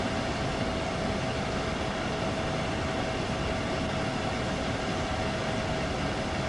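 A fast train from Train Sim World 2 on the Main-Spessart Bahn rolling continuously, dense rail roar with a persistent mid whine, steady and loud from start to finish, no voices.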